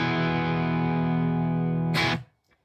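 A dry electric guitar chord with slight edge-of-breakup overdrive rings steadily and loud, then is cut off abruptly with a brief burst of noise before silence.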